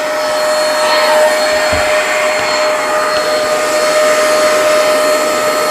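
A Hoover portable spot cleaner runs with a loud, steady machine roar of suction and motor whine, continuous and close up, with a few faint bumps and no speech.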